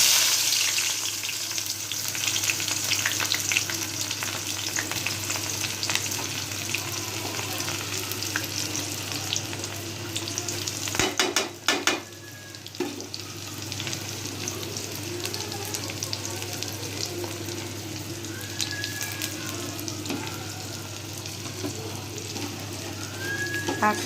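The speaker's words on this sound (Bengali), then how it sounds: "তেলটা ভালো করে গরম করা নেওয়া হয়ে গেছে। এখন আমি এর মধ্যে পেঁয়াজ কুচি, রসুন কুচি, কাঁচামরিচ চিরা এবং শুকনো মরিচগুলো দিয়ে দিব।" Chopped onion, garlic, slit green chilies and dried chilies frying in hot oil for jute leaf stir-fry, a steady close sizzle with occasional stirring and a brief clatter midway.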